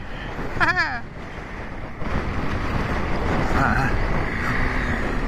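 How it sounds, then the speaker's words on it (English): Steady wind buffets the microphone with a broad, rushing roar that rises and holds, along with a brief tonal warble near the start, high in the Brecon Beacons. "Enjoy the wind."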